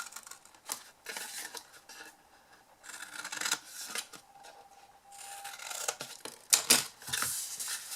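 Scissors cutting squares out of card, a series of crisp snips and rustling paper handling, close and uneven, with a few sharper cuts toward the end.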